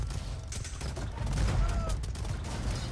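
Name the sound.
hand cannoneers firing in a strategy video game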